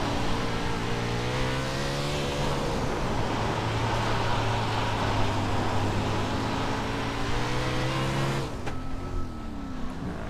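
A USAC 360 sprint car engine in the iRacing sim holds a loud, steady high-revving drone under throttle, its pitch wavering and then dropping sharply near the end as the throttle lifts, with no talking.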